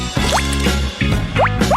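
Water is poured and stirred into red food colouring in a bucket for a large batch of marmalade, with close splashing, dripping and sloshing bursts and quick liquid gurgles.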